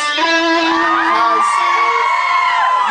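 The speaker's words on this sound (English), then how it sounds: "stop cheering!" A concert audience at the Manchester Roadhouse cheers for a band, loud whoops and high shouts rising together in a brief burst close to the listener.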